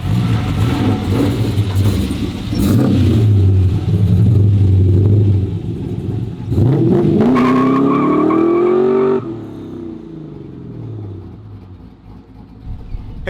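A 1966 Chevy Chevelle at a track day at Atlanta Motorsports Park roars loudly nearby, engine revving and climbing through gears while its tires squeal through the corners before the noise drops away.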